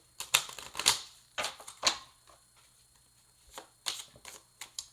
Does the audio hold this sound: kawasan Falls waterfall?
no